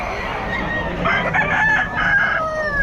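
A rooster at the Bocaue pet market gives one drawn-out crow, loud and close, over faint crowd murmur and background noise.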